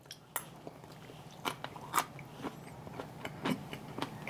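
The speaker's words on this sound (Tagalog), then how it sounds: "pati broccoli, malutong din" Crisp bites into steamed broccoli served alongside chicken, a few sharp crunches spaced irregularly over a quiet background, close and fairly soft.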